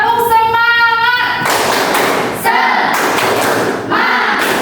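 A group of children in a classroom chants loudly in unison, broken by a few sharp, rhythmic claps and thuds, with a sung opening phrase.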